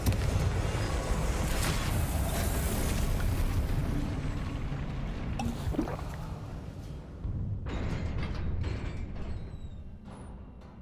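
A Confringo blasting spell bursts in Hogwarts Legacy gameplay, a loud broadband boom with crackling debris amid constant game ambience, fading briefly before the background swells again.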